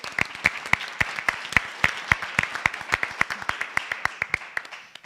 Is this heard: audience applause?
yes